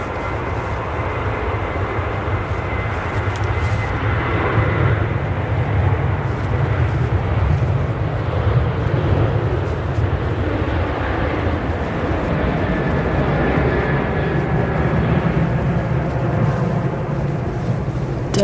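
A Ryanair airliner at Manchester Airport gives a steady, loud engine roar that holds evenly throughout without fading, with no talk over it.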